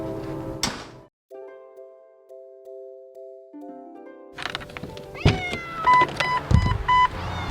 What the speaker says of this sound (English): Very angry cats.